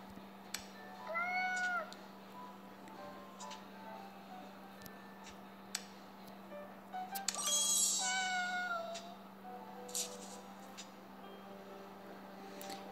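Cartoon cat meows in the Kitty Keeper cat-collecting mobile game, two short separate meows over a steady electronic hum, with small clicks and chimes scattered between.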